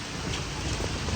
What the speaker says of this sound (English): pouring down rain, setting up